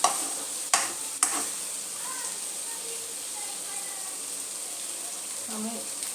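Okra and mixed vegetables with spices frying in a pan: a low continuous sizzle with a couple of sharp utensil knocks near the start, and faint background sounds over about six seconds.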